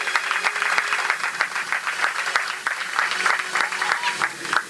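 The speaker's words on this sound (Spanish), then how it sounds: "¿Cuántos dan aplausos a Dios por su palabra?" A church congregation applauds at a preacher's prompting, a dense, steady patter of many hands clapping in a reverberant hall, sustained for several seconds with brief louder swells.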